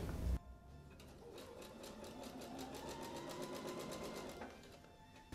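A sewing machine runs a zigzag stitch that sews stretched elastic onto fabric for pajama bottoms. It gives a steady, close, rapid mechanical whir for about four seconds and plays alone with no talk.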